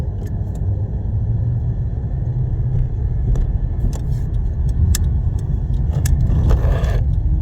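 A car driving on a 20 to 30 minute trip home, a steady low engine and road rumble inside the cabin with scattered light clicks and jangles, no talking.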